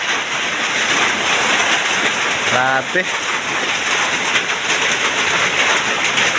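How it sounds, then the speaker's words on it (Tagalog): Heavy rain pours down in a constant dense hiss during a typhoon, water dripping from a roof leak, with a short exclamation from a voice partway through. "Dahil po sa lakas ng ulan, ayan po, nagsilabasan po yung tulo."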